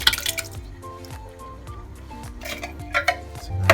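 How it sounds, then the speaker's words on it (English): Diced Italian tomatoes from a tin pour into a pasta pan, wet plops, squelches and drips arriving in an irregular close run with short pauses between. "I'm going to add a tin of diced tomatoes in"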